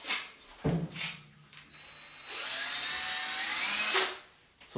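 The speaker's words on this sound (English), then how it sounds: "I also have my drill here, which I will mix with." An electric drill with a mixing paddle churns thinset mortar in a bucket for tile installation, a steady whining drone running about two seconds after a few short knocks, close and fairly loud, with no talking.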